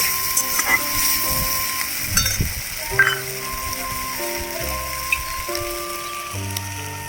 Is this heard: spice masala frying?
yes